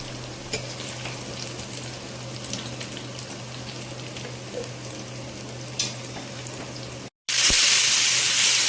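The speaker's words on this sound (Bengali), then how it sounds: "এবার পেঁয়াজ বাটাগুলো দিয়ে দেওয়া হচ্ছে তেলে" Onion paste frying in oil for minced mutton sizzles steadily up close, with small pops and stirring clicks, before a brief gap and a loud burst of different noise at the end.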